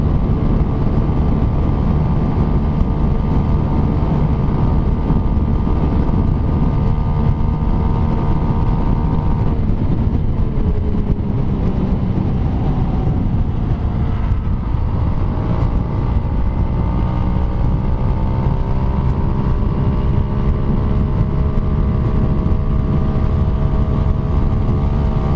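A Kawasaki KLX150 motorcycle rides with a passenger on board, giving a loud, steady engine drone under heavy wind rush. The engine pitch rises and falls as it revs partway through.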